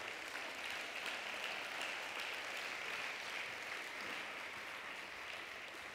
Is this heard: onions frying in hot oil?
no